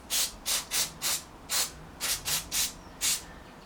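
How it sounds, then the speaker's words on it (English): Carburetor cleaner sprayed from an aerosol can onto a strimmer in short bursts, about nine quick hissing blasts in an irregular rhythm, close and fairly loud with no talking. "Oh, I didn't order any carb spray."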